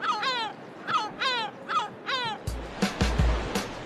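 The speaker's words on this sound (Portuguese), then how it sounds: "As gaivotas são parte do cenário." Seagulls calling on a Portuguese coast where surfers ride giant waves: a run of repeated sharp caws, followed by louder noisier calls over a low rumble of wind or surf.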